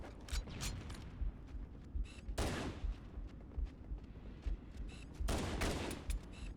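Rapid bursts of gunfire in Halo CE, short volleys cracking out every second or so with two heavier, longer blasts of sustained fire, loud and close against a dense backdrop of battle noise.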